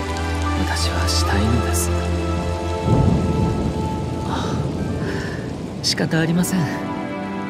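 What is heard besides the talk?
rain falling, from Genshin Impact Kamisato Ayato teaser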